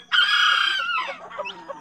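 A Kate bantam hen, black, clucking close by in a single drawn-out call that breaks into shorter, rougher clucks, with faint chick-like peeps at the end.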